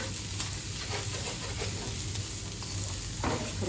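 Egg fried rice with carrots and beans is stirred and tossed in a pan over a continuous low sizzle, with soft scraping and rustling from the mixing, close and fairly quiet, with no talking.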